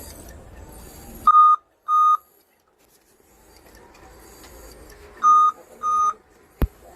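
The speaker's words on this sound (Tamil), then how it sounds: "அதோட இந்த பீப்ன்ற சவுண்டும் வருது." Four electronic beeps from an old Dell laptop in two pairs, steady high tones with a pause between pairs, over a low hum and a faint click near the end.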